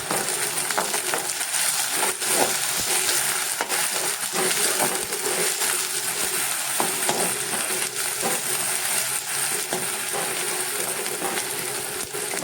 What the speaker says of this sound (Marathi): हे टाकून मी आता हे परतून घेणार आहे